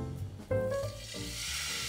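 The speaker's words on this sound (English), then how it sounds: "I want to hear the sizzle" Bison steak hits a hot pan with a sudden loud sizzle that settles into a steady, hissing fry.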